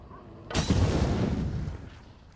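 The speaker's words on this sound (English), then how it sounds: "A Hellfire bomb landing in the tower next to me is my rude awakening." A Hellfire bomb explodes in a nearby tower in the game Hunt Showdown: a single sharp, loud blast that rolls into a long rumbling decay.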